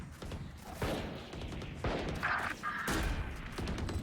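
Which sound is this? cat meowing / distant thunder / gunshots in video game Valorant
gunshots in video game Valorant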